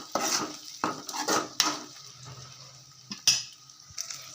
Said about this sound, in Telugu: ఇలా మధ్య మధ్యలో ఒకసారి కలుపుకోవాలి అడగంటకుండా